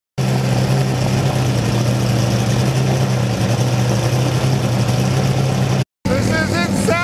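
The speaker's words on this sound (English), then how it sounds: "There's like 10 Cup cars just revving right now." About ten Porsche GT3 Cup race cars revving together in a paddock at a festival of speed, a loud sustained engine drone with a low steady hum, briefly cut off near the end before the revving resumes.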